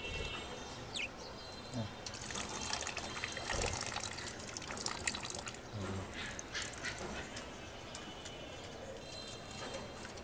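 Water is poured gently into an outdoor bird bath, a soft irregular trickle and splash with faint background noise and a few small knocks.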